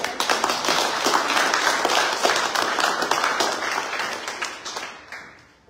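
A church congregation claps together in a dense, sustained burst of applause that gradually fades out near the end.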